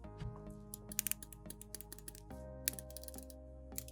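Seiko Samurai SRPH11 limited edition dive watch with an aluminum bezel insert clicking as the bezel turns, a string of small sharp clacks at an uneven pace over a steady low background hum, close to the microphone.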